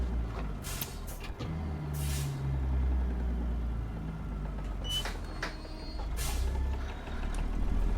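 Air brakes hissing and squealing on a truck in American Truck Simulator, with several sharp high bursts over a steady low engine rumble, loud and close with no talking.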